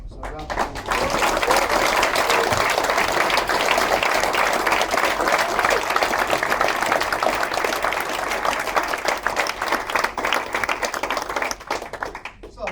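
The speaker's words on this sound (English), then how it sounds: "applause." An award ceremony crowd breaks into sustained, loud applause, a thick wall of many hands clapping that swells quickly and fades near the end, with a little talk around it.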